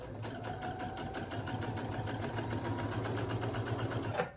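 A Brother SE1900 sewing machine runs continuously on fabric, a fast steady mechanical whir with rhythmic needle ticking, close and moderately quiet, with no talking.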